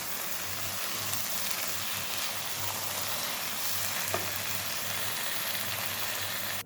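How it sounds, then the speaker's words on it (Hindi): Mash dal roasting in a kadhai for dhaba-style dal gives a steady, moderate sizzle with a low hum beneath it and a faint clink near the end, with no talking. "अब हमने कढ़ाई में ही इस दाल को अच्छे से भूनना है"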